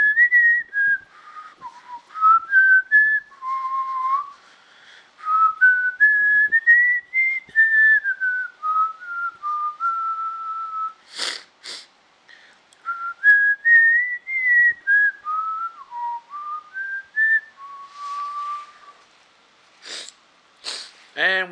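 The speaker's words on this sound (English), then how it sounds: "he starts whistling the Tales from the Crypt theme." A person whistles the Tales from the Crypt theme, a wavering eerie melody in clear close notes, broken by a couple of sharp sniffs or breaths.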